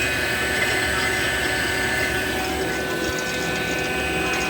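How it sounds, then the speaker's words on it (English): A vacuum pump runs steadily on an air conditioning system during a compressor change-out, a loud, continuous mechanical drone and hum with no pauses, heard alone and close. "Got the vacuum pump fired up."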